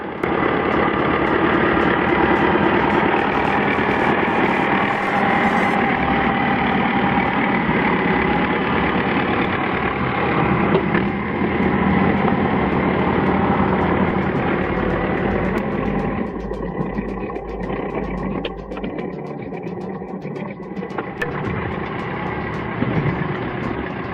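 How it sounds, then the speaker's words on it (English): Engine of an MF-65 tracked machine hauling heavy firewood through snow, a steady loud low drone that holds throughout with a slight dip in the second half, no talk. "the MF-65 proves almost unstoppable while hauling heavy firewood with ease"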